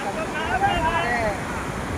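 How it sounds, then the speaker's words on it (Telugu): Sea waves wash onto a fishing beach in a steady, broad hiss of surf and wind, with faint voices mixed into the close, continuous wash. "సముద్రం కెరటాలు వచ్చి"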